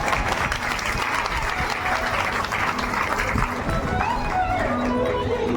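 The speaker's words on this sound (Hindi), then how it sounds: "जोर से तालियां बजाएं।" Devotees at a Shiv Mahapuran katha gathering clap loudly on request, producing a thick, unbroken roar of applause from a large crowd that holds steady for several seconds.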